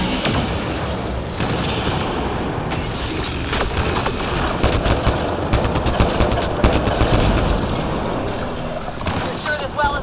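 A turret fires in sustained bursts during a Mass Effect Andromeda firefight against Remnant, a dense and loud rattle of shots and booms that never lets up, with voices talking over the combat.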